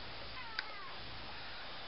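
A house cat meows once, faint and distant in the background, a short rising-and-falling cry over quiet room tone.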